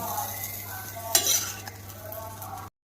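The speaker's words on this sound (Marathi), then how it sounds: "मिरची हे छान प्रकारे परतवून घ्यायचं." Green chilies sauté and get stirred in a pan while making ridge gourd bharit, a close, steady sizzle with scraping stir strokes and one sharp clink of utensil on pan, then it cuts off.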